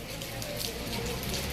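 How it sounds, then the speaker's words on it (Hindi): Steady rain falls in Borunda, a continuous loud hiss of drops on surfaces with no break and no voices. "बारिश का दौर शुरू।"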